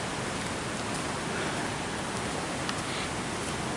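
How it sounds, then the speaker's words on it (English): A waterfall near the end of the Poor's Island trail in Black River, New York, gives off a steady, even roar like distant rushing water, a continuous broadband wash with no talk. "Mist indicates waterfall."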